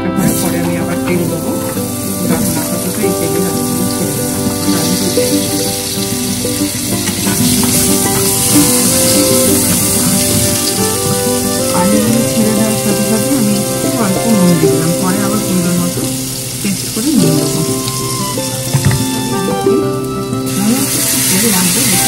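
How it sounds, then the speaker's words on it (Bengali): Potatoes frying in oil left over from frying fish, with a steady, loud sizzle and crackle throughout and occasional stirring sounds, while a cook talks over it. "এই তেলেই আমি ছেড়ে দিচ্ছি আলুগুলো, যদি দরকার হয় পরে আমি আবার তেল দেবো।"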